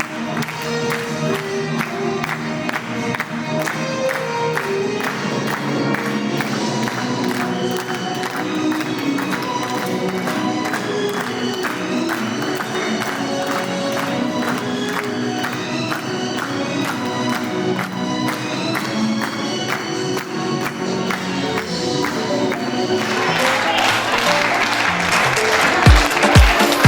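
An audience applauds children at the Childhood Oscar 2025 awards ceremony, with dense, steady clapping that holds for nearly half a minute, then swells louder near the end with some cheering.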